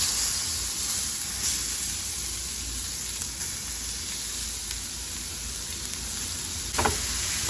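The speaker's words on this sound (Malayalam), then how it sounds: "ക്യാരറ്റ് ഇടട്ടോ" Grated carrot drops into a hot pan and sets off a steady, close sizzle and hiss that runs throughout, with a brief louder flare near the end; nobody speaks.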